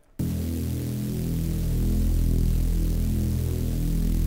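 A heavy, droning bass synth tone sustains after a sudden start, with a layer of bright white-noise hiss riding on top.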